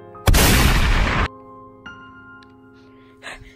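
A video game gun fires one loud, close, roughly second-long blast, followed by quieter droning game tones and a faint later thump.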